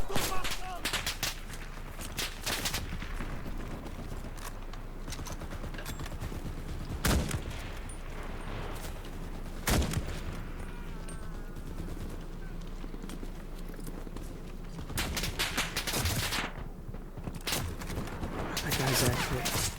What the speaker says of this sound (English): Taking a lot of fire.